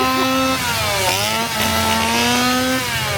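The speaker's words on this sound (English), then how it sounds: "I love a good chainsaw." A chainsaw revs loud and close in a Halloween Horror Nights scare zone, its whining engine steady then dipping and rising again, with crowd noise beneath and no talk.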